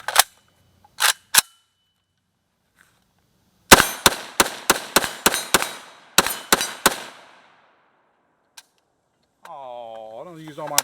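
Galil ACE rifle firing: a few spaced single shots, then a rapid string of about a dozen sharp cracks in two bursts, loud and close, followed by silence and a short stretch of speech at the end.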